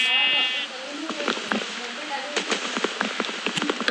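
Goat bleating in Minecraft, a few wavering bleats over a patter of rain-like ticks, with someone talking over them.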